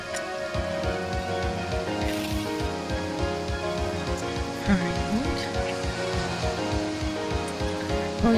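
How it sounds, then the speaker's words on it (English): Heavy rain falls steadily on a surface in a dense, continuous patter with irregular louder drips close by. One person briefly speaks over it. "That rain's getting heavier now"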